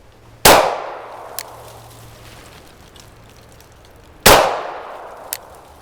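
Two sharp pistol shots fired at a target several seconds apart, each a loud crack with a ringing decay, and a faint clink follows each shot.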